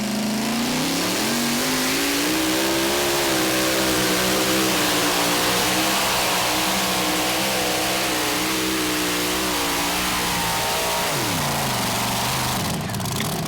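A mini rod pulling vehicle at a tractor pull roars loud and close for the whole stretch, its engine pitch climbing and wavering under load, then sagging as it loses RPM near the end.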